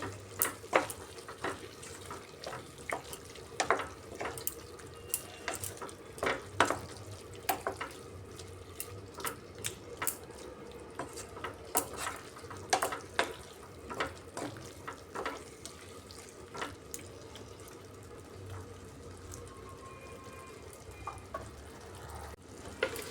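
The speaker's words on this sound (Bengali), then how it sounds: "বাজা বেসনটা দিয়ে এখন এটা খুব ভালো করে মিশিয়ে নিচ্ছি" Spinach and roasted gram flour get mixed in a pan, with a faint bubbling sizzle under frequent sharp clicks and scrapes of a spoon against the metal, close and without speech.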